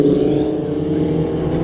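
Formula Vee race cars battle at Kirkistown, a loud, steady engine drone held close by with no break and no talk over it.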